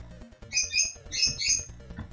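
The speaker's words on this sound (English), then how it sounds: "before the birds start chirping" Birds in the Pocket Legends mobile game chirp in two short bursts of bright, high twittering calls. The calls are fairly quiet over faint low background noise.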